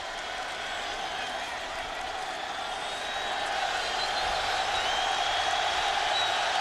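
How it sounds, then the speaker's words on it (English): A big stadium crowd at a college football game makes a broad, distant roar that swells noticeably louder halfway through, with faint talk underneath. "Crowd just getting noisier."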